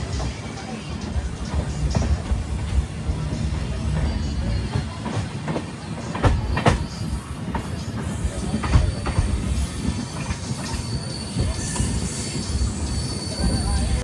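Vivek Superfast Express, an Indian Railways train past Bhubaneswar, rumbling along steadily with low, continuous rail noise, occasional wheel squeals and knocks, and faint background voices inside the carriage.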